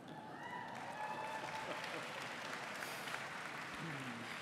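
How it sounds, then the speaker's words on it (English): Scattered applause from a gathered audience at an awards ceremony, faint and distant, with a voice briefly heard near the end. "I heard some clapping."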